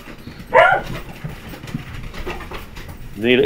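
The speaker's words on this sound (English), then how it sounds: "The dogs just barked." Dogs bark in a short burst partway through, followed later by another bark or yelp near the end, heard over background noise and faint voices.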